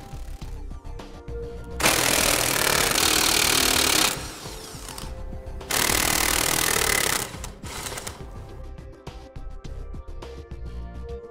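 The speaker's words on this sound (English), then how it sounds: "we'll need to remove these four bolts here" Power tool loosening brake assembly bolts on a trailer hub flange of a Dexter trailer hub and drum assembly, two loud sustained whirring bursts of about two seconds each, close up, with quieter clanking between.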